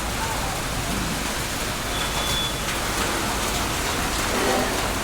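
Unseasonal rain falls in Chhatrapati Sambhajinagar as a steady, dense hiss of drops on surfaces, continuous and even for the whole stretch with no voices.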